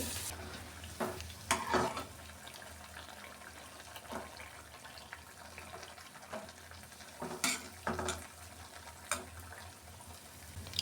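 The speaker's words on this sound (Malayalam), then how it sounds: "അപ്പോൾ ചെറിയ ചെറിയ നെയ്യപ്പായിട്ട് രണ്ട് മൂന്നെണ്ണം ഞാൻ ഒഴിച്ചു കൊടുത്തിട്ടുണ്ട്" Small neyyappam, sweet rice fritters, frying in hot oil, a steady low sizzle broken by several sharp stirring or ladle clinks at irregular intervals, with no talking.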